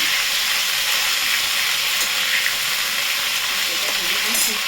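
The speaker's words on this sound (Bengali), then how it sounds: "এবার আমি ফুলকপি দিয়ে দিই। ফুলকপিটা ভেজে নেব।" Cauliflower pieces fry in hot oil in a pan, a loud, close, continuous bright sizzle and hiss with no voices.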